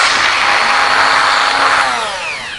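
A Dremel rotary tool files the edges of leather in shoemaking work, a loud high-pitched buzzing whir close up that holds steady, then winds down slightly as it eases off at the end.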